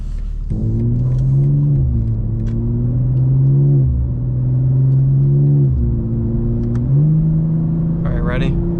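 An 800-horsepower BMW M2 G87 accelerating hard on the road, a loud, close engine drone climbing in pitch through several gear shifts with brief dips between them.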